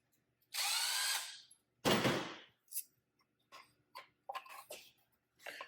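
Lag bolts being threaded for a wall-mounted Tesla SAE J3400 charging cable organizer, heard as a few short bursts of a power driver followed by scattered clicks and clatters of hardware, close and fairly quiet, with no talking.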